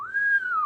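One person whistles a single short sustained note that rises slightly and falls away, clear and close with nothing else around it.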